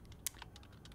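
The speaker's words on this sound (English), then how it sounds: "Who's typing?" Someone types on a computer keyboard in a room while a music video plays. A few soft, quick key taps sound close by, with one sharper click, over a faint background hum.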